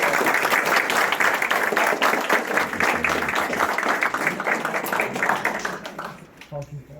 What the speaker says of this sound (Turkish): Onlar için şöyle küçük bir alkışlayalım sonuçta gidiyorlar.